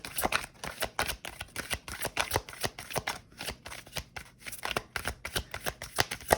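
Tarot cards shuffled close up in a steady run of quick riffling bursts, crisp papery flutters repeating about three or four times a second with no talk over them.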